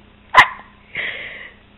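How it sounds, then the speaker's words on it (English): A child gives two loud, close hiccups: one sharp, abrupt jolt, then a second, softer and slightly drawn-out one about half a second later, in an otherwise quiet room. "You getting hiccups?"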